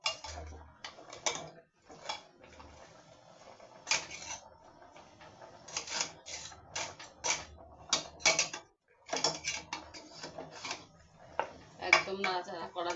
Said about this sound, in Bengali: এখন এটা ভালো করে একটু নেড়ে চেড়ে নিয়ে আস্তে আস্তে করে নেড়ে নিয়ে